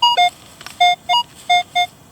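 A Minelab Equinox 800 metal detector swept over a hole at night gives a run of six loud, close tonal beeps in short, fairly regular pulses. No voices.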